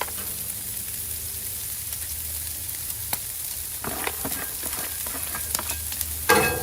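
Regular yellow onions sizzle on a Blackstone flat-top griddle, a steady close hiss with a few scattered clicks and a louder spatula scrape near the end.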